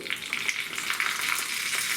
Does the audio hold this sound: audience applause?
no